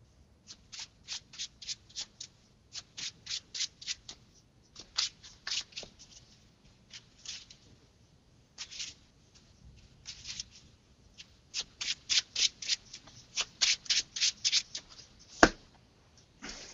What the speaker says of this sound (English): Shuffling goodness there